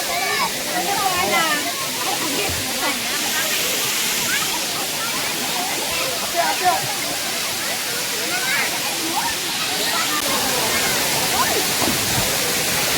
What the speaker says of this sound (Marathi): वरून पाणी पडतोय त्याचा आवाज जास्त येऊ शकतो